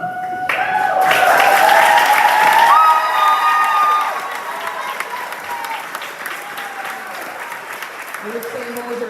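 Loud applause and cheering from a graduation audience at a Little Falls CEC ceremony, with whoops and shouts at first, then settling into steadier clapping as a voice begins speaking over it.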